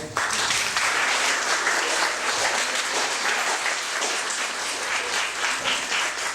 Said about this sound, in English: Can you guys clap it up for these people?